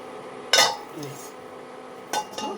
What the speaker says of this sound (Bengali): এবার একটা ঢাকা দিয়ে দিতে হবে।